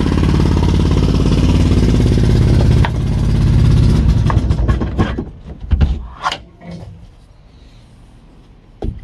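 A boat engine that had sat unused for a long time runs loud and steady with a rough mechanical drone, then cuts out, leaving sparse clunks and knocks.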